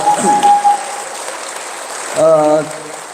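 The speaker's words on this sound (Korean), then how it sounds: "우리 다 같이 박수하겠습니다" Audience applause at a Korean business meetup event: steady, dense clapping fills the whole stretch at a moderate level, with a voice speaking over it early on and again near the end.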